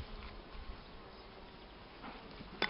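A honeybee swarm nesting on ceiling boards gives a steady, faint, continuous buzzing drone with a few slightly louder swells near the end.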